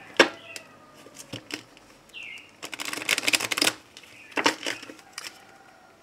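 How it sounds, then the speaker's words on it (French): Tarot cards are shuffled by hand in quiet bursts of crisp riffling and snapping, separated by short pauses and soft single taps. "Si vous ne voulez pas voir le brassage des cartes"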